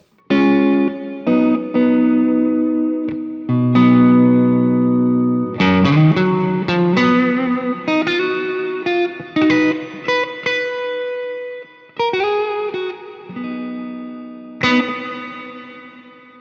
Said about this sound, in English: It's a nice reverb.